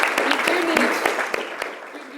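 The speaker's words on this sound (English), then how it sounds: "Yes, can we give an applause?" An audience at a C40 conference applauds, a brief burst of scattered claps that thins out over two seconds, with a voice speaking over it.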